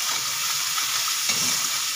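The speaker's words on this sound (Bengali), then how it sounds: "দিয়ে আবারও মশলাটা ভালো করে কষিয়ে নিচ্ছি" Spice masala being stir-fried in a pan: a continuous close sizzle with soft scraping and stirring that stays steady throughout, with no speech.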